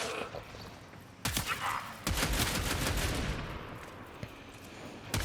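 The Cyte-09 rifle in Warframe fires full auto, starting with a sharp shot, then a rapid, dense burst of loud gunfire that tapers into a fainter rattle.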